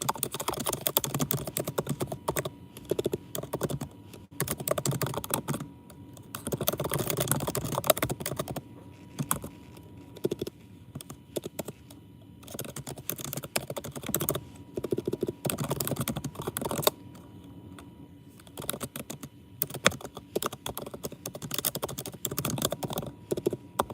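Steady typing on a computer keyboard during a live new moon check-in, with bursts of rapid key clicks separated by brief pauses, close and fairly quiet with no talking.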